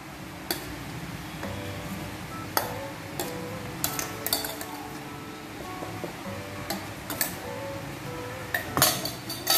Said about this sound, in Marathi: ते मी आता एका परातीत काढून घेते